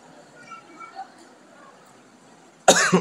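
A single loud, close cough bursts out near the end after a stretch of quiet room tone.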